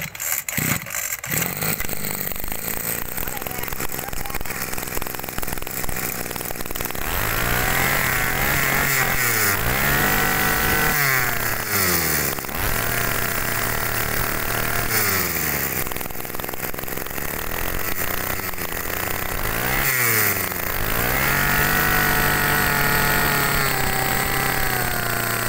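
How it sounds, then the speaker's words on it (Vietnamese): A backpack petrol engine machine, sold in a lot that includes Makita, Echo, Tanaka and Robin units, is test-run. It drones loudly and steadily, with repeated throttle revs rising and falling every few seconds. "đầu tiên là mình sẽ bóp xăng lên trước khi mình thử máy anh"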